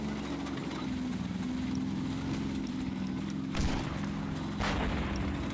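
A distant gunshot booms in a war video game, a long-range shot heard as a brief broadband crack around mid-clip, with a second blast near the end over a steady low rumble of battlefield ambience.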